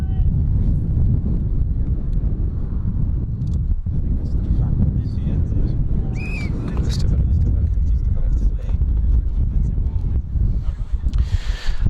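Heavy wind buffeting a microphone on the overcast South Downs, a constant low rumbling roar throughout, with faint indistinct voices and distant sounds underneath.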